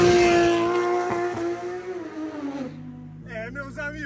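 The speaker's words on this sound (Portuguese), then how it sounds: "é saída de GT3 RS e McLaren 570S, brinca! Isso é um monstro!" Loud, sustained engine roar from a Porsche GT3 RS and a McLaren 570S with straight-pipe exhausts, revving and droning up close before settling into a lower rumble, with people talking over it toward the end.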